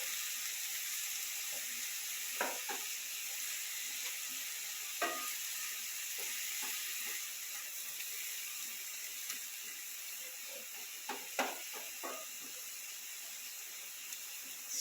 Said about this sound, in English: the liquid starts to steam with it boiling like that